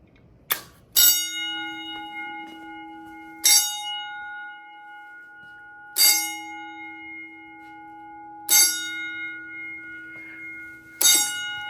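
A 1970s Edwards 6500 two-stage fire alarm panel in first stage pulsing its bells: five loud ringing clangs roughly every two and a half seconds, each decaying into a sustained metallic tone, close and alone.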